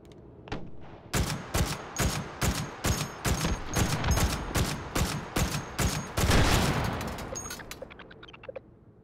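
Rapid bursts of FAL tactical rifle fire in the VR shooter Hot Dogs, Horseshoes & Hand Grenades, loud and close, with repeated sharp volleys through most of the stretch before thinning into scattered shots.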